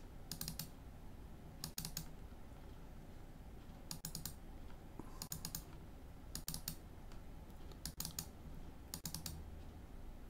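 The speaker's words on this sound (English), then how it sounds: "I'm just double clicking on the waste to delete it." A computer mouse double-clicks while deleting waste vectors in Vectric design software, giving about seven sharp paired clicks, close and crisp, spaced evenly over a low background hum with no talking.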